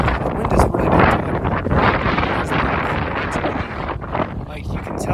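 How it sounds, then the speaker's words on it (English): Strong wind on the Continental Divide Trail buffets the microphone with a loud, steady roar and gusty swells throughout, up close and continuous. "This evening's also interesting because the wind is really picked up."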